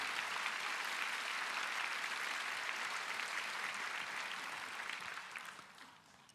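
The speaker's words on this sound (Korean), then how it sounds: "영광의 박수 한번 올려드립니다." Congregation applause at a church prayer gathering during a missionary's sermon, a continuous wash of many hands clapping that stays fairly quiet and distant, then tapers off at the end.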